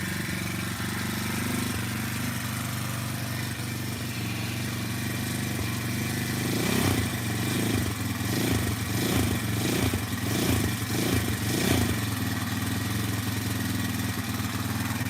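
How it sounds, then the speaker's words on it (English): A small four-stroke bike engine fitted with a muffler runs steadily and fairly quietly nearby, with a series of quick throttle blips rising and falling in its note midway through. "It's very quiet. It's a 4-stroke with a muffler right there."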